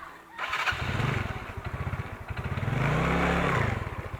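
A motorcycle on an off-road ride starts up with a sputter, then idles with a steady thumping beat and revs up and down, close and loud.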